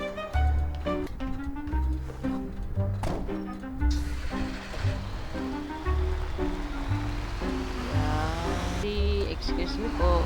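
A Kawasaki motorcycle in GTA 5 gives a steady, loud engine drone that rises and falls in pitch with the throttle and gear changes, with a brief tire squeal.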